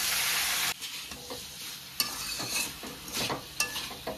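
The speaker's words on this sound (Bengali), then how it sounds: "আলু পটলের সাথে কিন্তু কষার পালা। এবারে অল্প অল্প জল দিয়ে কষাতে থাকবো।" Potato and pointed gourd masala being sautéed with a little water, a spoon scraping and stirring the pan in repeated strokes over a steady close sizzle, with no talking.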